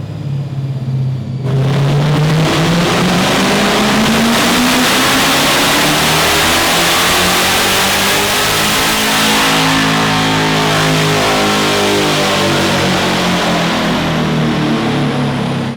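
A 2024 Ford Mustang running E85 with a Steeda high-flow air filter and 4.09 gears, pulling hard in 7th gear on a chassis dyno. The engine roars up from idle into one long, loud, steadily rising rev lasting well over ten seconds, with no talking.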